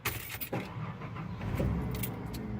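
Keys jangle and a 1990s Ford F-150 half-ton pickup cranks and catches, settling into a steady low engine rumble close by.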